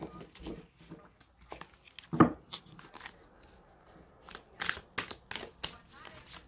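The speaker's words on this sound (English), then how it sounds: "let me give the cards a nice shuffle" Quiet, close riffling of a deck of cards being shuffled, in several short bursts with pauses between.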